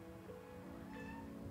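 A cat meows twice in quick succession, close by, the second call rising in pitch, over a steady low background hum.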